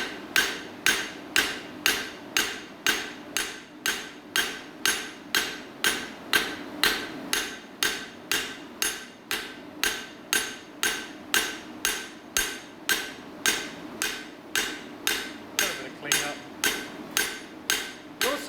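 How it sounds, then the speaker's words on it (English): Steady, evenly spaced hammer blows strike sheet metal in lines to spread it, about two sharp ringing impacts per second, close and loud with no talking. "Also notice that that style of hammer blow gives you generally cleaner work as you're going through the process."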